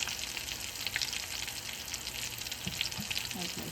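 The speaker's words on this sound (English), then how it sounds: "While these are cooking, I am going to be battering more onion rings." Battered low-carb, gluten-free onion rings fry in a pan with a steady, close sizzle and occasional pops, with no talking over it.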